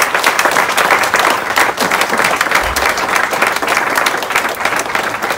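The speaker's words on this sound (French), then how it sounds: "Je vous demande d'applaudir absolument." An audience at a charity swim event for children applauding, dense, continuous clapping from a sizable crowd, loud and sustained throughout.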